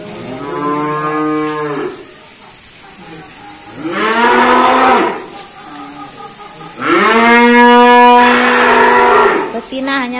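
Limousin cattle and calves in a pen bellow three long, loud moos close by during bathing, each call rising and falling, with quieter pauses between them.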